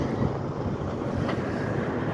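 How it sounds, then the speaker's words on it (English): A Freightliner dump truck's diesel engine runs in a steady, broad rumble outdoors, fairly distant and blended with wind noise. "This Freightliner sounds good."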